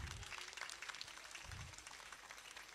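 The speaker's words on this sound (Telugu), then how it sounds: "ఒకసారి గట్టిగా చప్పట్లు కొట్టండి" A yoga session crowd gathered in a street facing a temple claps hard and fast together, a dense, steady patter of many hands continuing throughout at moderate distance.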